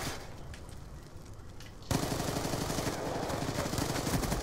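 Submachine-gun fire in the video game Black Ops 2: a faint burst at first, then a sudden loud sustained stream of rapid automatic shots from about two seconds on, with no talking.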